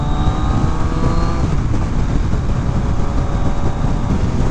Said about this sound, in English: Throttle response is much better.